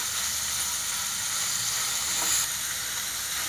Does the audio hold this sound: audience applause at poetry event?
no